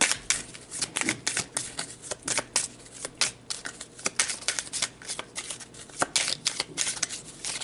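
Tarot cards are shuffled over and over in a close, steady run of crisp riffling snaps and soft slaps, with no voice over them.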